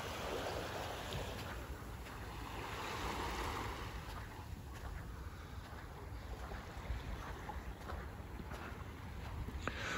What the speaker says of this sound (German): Und da ist es auch wieder dieses beruhigende Wellengeräusch.